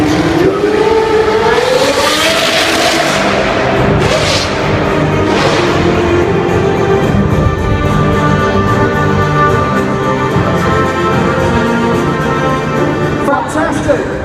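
A classic 1978 Team Lotus Formula 1 car runs at the Autosport International 2014 Live Action Arena, its engine loud and close, revving with a rising pitch, then roaring steadily with a couple of whooshing passes.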